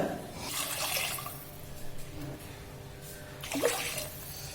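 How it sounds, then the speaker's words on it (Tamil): Water splashes and trickles steadily for a few seconds into a pot of spice mixture for ghee rice, close by, with a brief louder gush near the end. "இதுக்கு நான் ஒன்றரை அளவு தண்ணி ஃபஸ்ட்டு சேர்த்துடுறேங்க"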